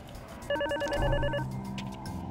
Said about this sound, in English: Unless you want to make the phone ring in here